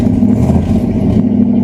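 A 1968 Chevrolet Camaro V8 idles loud and close, a steady deep rumble with a slight rise in revs partway through.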